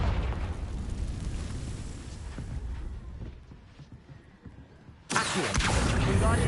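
Confringo blasting spell from Hogwarts Legacy erupting in a loud, sustained rumbling explosion that fades and then bursts back in with a sharp, bright blast near the end.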